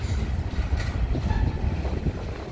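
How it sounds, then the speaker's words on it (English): A CP freight train rolls past with very rusty black KCS hopper cars among its consist in Minneapolis, giving a steady, close low rumble and rattle of wagons with some wind buffeting and no voices. "back to the CP train. And the black KCS hopper, very rusty"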